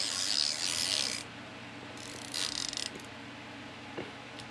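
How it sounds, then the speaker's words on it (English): A ratchet wrench mechanism spins and clicks in two fast rasping bursts, close and fairly loud, then goes quiet apart from a faint tick. "so you can use it like an actual ratchet"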